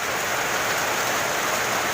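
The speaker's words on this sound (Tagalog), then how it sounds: "malakas yung ulan. Umuulan na malakas" Heavy rain pours steadily in a dense, unbroken hiss, loud and close, with no voices.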